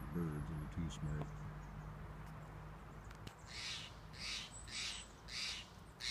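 Steller's jays call outdoors, several harsh, rhythmic cries sounding faint and distant in the background after a voice speaks briefly at the start.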